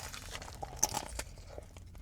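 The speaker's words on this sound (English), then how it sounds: "The taco's got a good crunch." Someone bites into a crunchy fast-food taco, producing a brief crisp crunch followed by a few softer chewing sounds, close to the mic.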